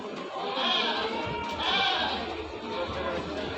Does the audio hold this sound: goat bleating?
yes